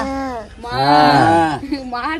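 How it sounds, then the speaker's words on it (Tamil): A cow moos loudly and close by, one long drawn-out call followed by a shorter second moo, with a voice briefly mixed in. "மாடு எப்படி கத்தா?"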